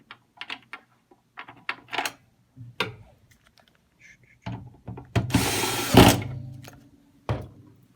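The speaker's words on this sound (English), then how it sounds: "make sure we get the screws back in the right place" Screws are driven back into a Cas SW II weighing scale, heard as scattered close clicks and taps with a brief buzzing burst of a screwdriver near the middle, then more small handling knocks.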